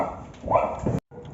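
Dogs bark in a close, loud burst of a few yelping barks that cuts off abruptly at the end.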